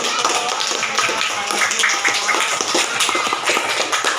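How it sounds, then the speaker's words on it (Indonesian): Children in a classroom clapping together for a classmate, a dense, continuous patter of many hands at close range lasting the whole stretch. "Tepuk tangan dulu untuk"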